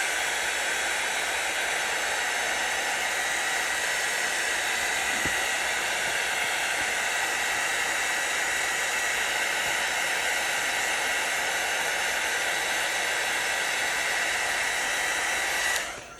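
A heat gun or hair-dryer-style blower hisses with a steady, constant airflow roar as heat is applied to an iPhone XR screen, continuous and close.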